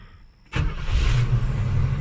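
A carbureted Chevrolet Nova engine cranks and fires up about halfway through, then settles into a loud, steady idle rumble heard up close.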